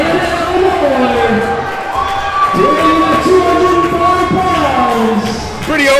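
Wrestling crowd at a No Fold Pro Wrestling show in Norfolk, Southern Illinois, cheering and shouting loudly as a returning former Jackson County champion comes out, a dense sustained roar with whoops throughout.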